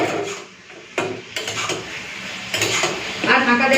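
Snake gourd frying in a pan is stirred with a utensil, giving repeated scraping and clinking strokes against the metal with a faint sizzle underneath.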